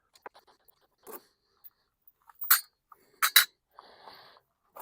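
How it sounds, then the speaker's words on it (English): Metal clinks and scrapes come from removing two 10mm bolts from the fuel tank of an old Honda XR250L motorcycle, with sparse, brief taps and a couple of louder ratcheting bursts close by. "Let's go ahead and take the bolts out of this tank, take it off. Got two 10mm bolts here."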